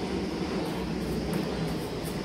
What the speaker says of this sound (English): Everybody's talking about the planes. Yes, I live by the airport.